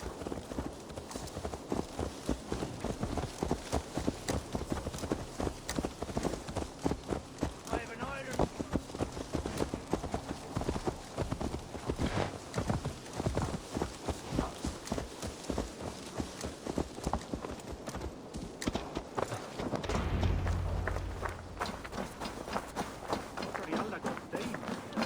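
Horse hooves clip-clop steadily in Assassin's Creed Valhalla, a brisk repeating rhythm of close, distinct hoofbeats that continues throughout over a soft game ambience, with a brief voice appearing near the end.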